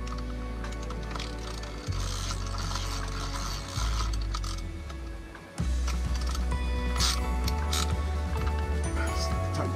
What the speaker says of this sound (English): we're gonna tighten it with the ratchet